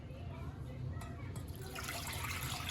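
About 2.5 cups of water are poured into a cooking pot for rice in a home kitchen, a soft continuous splashing blended into a noisy room background.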